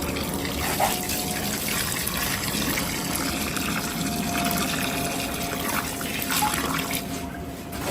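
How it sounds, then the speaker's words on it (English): Water pours and gushes steadily into a lime mix in a tub, a continuous close splashing wash that holds for several seconds without talk. "then when you've got to this stage you add your water."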